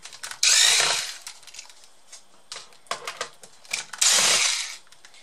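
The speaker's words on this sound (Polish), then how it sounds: "możecie ją wykręcać za pomocą wkrętarki" A Makita cordless screwdriver unscrews the screws on a Samsung R580 laptop in two loud whirring bursts, with light clicks and handling taps between them.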